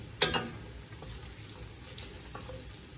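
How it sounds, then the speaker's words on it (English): Onions cooking down in a pot for gumbo give off a quiet, steady sizzle, broken by one sharp clatter near the start and a few faint stirring knocks. "my onions been cooking down"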